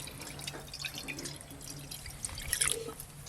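Water is poured into a cooking pot to boil cut pumpkin, a soft, fairly faint trickling and splashing with scattered drips that briefly grows louder near the end.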